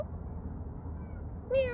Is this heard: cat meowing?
yes